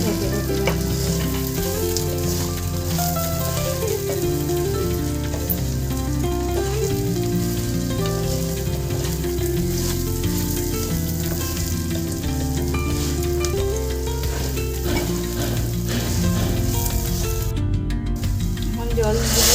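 Cashews and dalia (broken wheat) fry steadily in a pan with a loud, continuous sizzle, while music plays underneath throughout.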